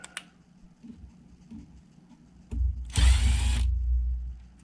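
After quiet clicks and handling of Team Associated NTC3 nitro RC car parts, a power drill gives one short, close whirring burst as it backs out screws, then the sound falls away.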